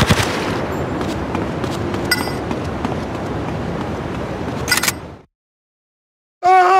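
Gunfire in the video game GTA Vice City Stories, a dense, loud rapid burst of shots for several seconds that cuts off abruptly, followed by a brief tonal sound.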